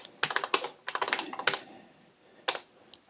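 Keys clack on a Color Computer keyboard as a short program is entered, with close, crisp bursts of rapid keystrokes separated by brief pauses and a final short flurry.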